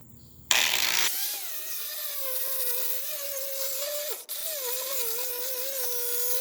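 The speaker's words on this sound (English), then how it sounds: "now we're going to move on to the grinder with the 80 grit wheel on it" A bench grinder with an 80-grit wheel whines at a steady high pitch after a sharp start, its tone wavering and dipping briefly as metal is pressed to the wheel.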